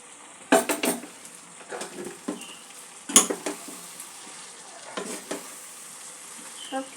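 Small mourola fish tossed into a hot pan of frying vegetables for a Bengali fish curry, with a steady sizzle broken by sharp scrapes and clinks of a stirring spoon against the pan, close and clear.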